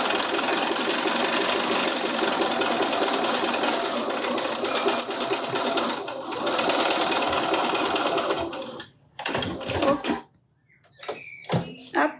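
A sewing machine runs continuously for about nine seconds while stitching a crossbody bag, then stops; a few short clicks and handling noises follow in a quiet room.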